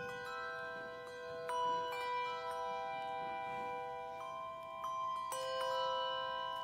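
Church bells toll during an All Saints Sunday service at St. Mark, sustained metallic ringing tones overlapping with fresh strikes at irregular intervals, moderately loud and steady with no talk.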